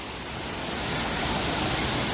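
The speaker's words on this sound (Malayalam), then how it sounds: "ഇനി വെള്ളച്ചാട്ടം കൂടെ ഒന്ന് കാണാം" Steady, dense roar of a waterfall in Kerala after the rainy season, with the water somewhat low, falling from a good height; a continuous broadband rush that slightly swells and holds, with no voices.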